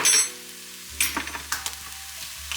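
Seasonings sizzle in a pan while sundried tomato chicken cooks, a soft frying hiss broken by several sharp clicks and scrapes of stirring, with a low steady hum underneath.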